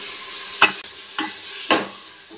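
Beef for chana dal gosht fries in a pot with garlic ginger paste under a steady close sizzle, with three distinct stirring scrapes spaced roughly half a second apart and no talking.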